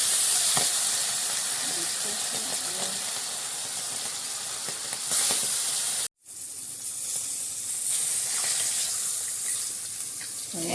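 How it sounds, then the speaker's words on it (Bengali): Hilsa fish fries in hot oil with a dense, loud, continuous sizzle and spitting crackle, briefly cut off by a moment of silence before the frying hiss resumes at full strength. "তেল গরম হয়ে আসছে, দিয়ে দিচ্ছে আমাদের মাছের রাজা ইলিশ মাছ।"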